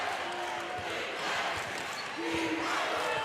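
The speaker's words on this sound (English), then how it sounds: "You can just hear the crowd groan when she misses" Basketball arena crowd at an NCAA women's tournament game between Gonzaga and UC Irvine lets out a sustained collective groan after a missed three-point shot, a broad dense murmur of many voices swelling and holding for several seconds.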